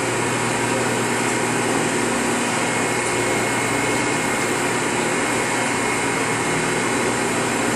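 A Wit-O-Matic 500 grinding machine runs steadily in a workshop while grinding V-bottom inserts, giving a continuous, loud, even mechanical whine and hiss with no pauses or voices.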